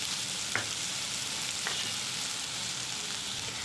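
Shredded cabbage fries lightly in a pan with a soft, even sizzle and a couple of faint stirring taps, quiet and close without any voices.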